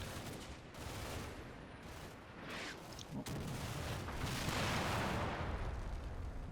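Steady, dense battle din in the wargame Combat Mission Red Thunder, with T-34 tanks in action: continuous rumbling fire and distant artillery booms, with occasional sharper cracks, rising slightly toward the end.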